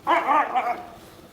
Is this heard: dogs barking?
yes